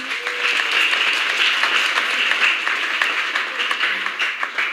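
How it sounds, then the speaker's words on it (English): At a solemn Eucharist for a first profession of Claretian Missionary Sisters, the congregation applauds the musicians with a bright, continuous round of clapping that holds steady throughout, close and fairly loud, with no talking over it. "Once again, let's give them a round of applause."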